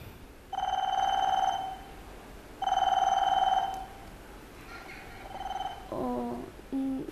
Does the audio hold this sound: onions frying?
no